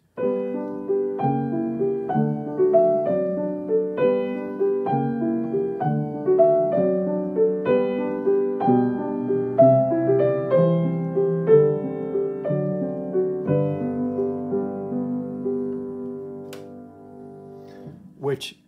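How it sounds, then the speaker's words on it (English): Piano chords from Schumann's From Foreign Lands and People, Op. 15, played with the sustain pedal, notes ringing into each other in a smooth, flowing progression with no talking. "So we do that with the sustain pedal on the right, the right pedal on the piano"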